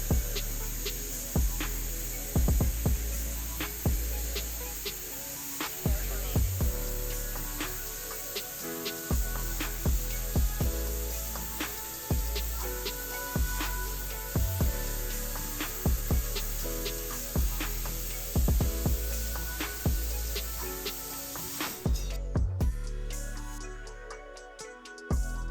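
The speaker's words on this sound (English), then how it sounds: "for the other piece, we decided to use the plasma cutter" A plasma cutter slices through a damaged Jeep WJ steel frame with a continuous harsh hiss and sputter, broken by repeated sharp crackles and pops, close and steady before it cuts out near the end.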